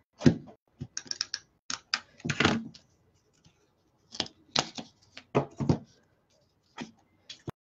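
Scissors snipping paper for a paper craft project, a series of short crisp cuts in irregular bursts with brief pauses between, close and fairly quiet, with no talking.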